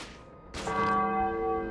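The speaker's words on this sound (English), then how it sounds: "we could keep that bell going, then clear out enough symbiotes to open up a landing zone. Try hitting that bell." A large bell struck once in the Spider-Man: Web of Shadows video game, a sudden loud clang at about half a second that rings on with a long sustained metallic hum, alone without talk.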